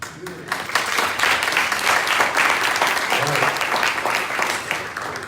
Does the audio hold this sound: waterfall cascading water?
no